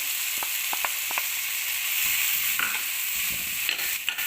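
Leafy vegetables hit a hot pan with fish in an Assamese kitchen, raising a continuous loud sizzle with a few light utensil taps and scrapes scattered through it.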